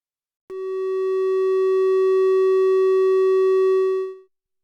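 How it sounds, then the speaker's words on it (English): A modular synth oscillator passes through a VCA as one pure, steady electronic tone with bright overtones. The tone starts abruptly, holds at an even pitch and level for about four seconds, then fades quickly to silence. "we're just going to hear the oscillator, the signal coming through just as normal."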